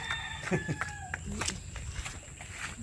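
A rooster's crowing sounds faintly in the background, partly masked by people talking and other clatter nearby.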